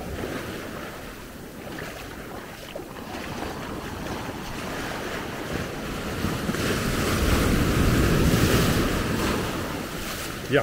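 Atlantic storm surf rolls onto the shore at Maspalomas, Gran Canaria: a continuous roar of breaking waves with wind buffeting the microphone, swelling louder toward the end.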